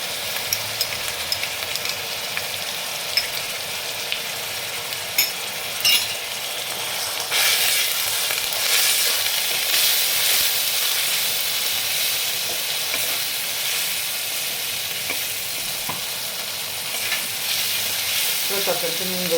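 Turmeric, chili and cumin paste for a spicy Bengali tangra fish curry sizzles steadily in a pan, with occasional stirring scrapes and clinks; a louder, brighter sizzle rises partway through and continues, with no talking.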